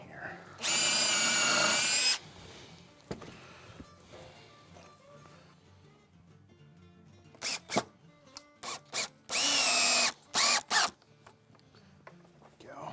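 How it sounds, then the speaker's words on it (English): A power drill bores through a board while a new shop vise is installed: a loud, sustained burst near the start, later a cluster of short bursts and one longer run, with quiet handling noises between. "And I'm not really worrying about pre-drilling all the way down through."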